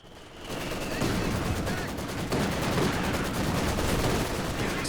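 A heavy mortar and surrounding battle in the strategy game Company of Heroes 2 produce a dense, continuous barrage of booming blasts and rattling gunfire, loud and unbroken after a brief quieter start.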